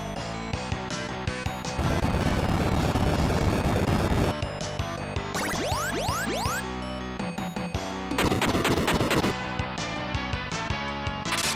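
Bombs chucked during a battle in the SNES game Final Fantasy: Mystic Quest, giving loud crashing, bursting game effects with rapid clatter and sweeping tones over backing music, no talk.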